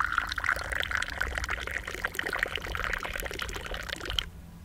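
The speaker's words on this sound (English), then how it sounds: "Got tea poured by an expert" Tea poured by hand at a breakfast in the Sahara Desert near Adrar, Algeria: a steady splashing stream for about four seconds, close by, ending abruptly.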